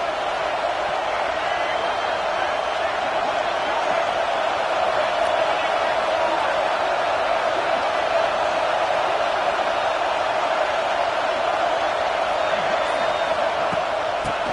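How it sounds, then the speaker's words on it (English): Ohio State Buckeye football stadium crowd at a game against Utah, a steady, dense roar of many voices filling the whole stretch without pause, loud and continuous as the home fans stay alive on third down. "The Buckeye crowd alive on 3rd down."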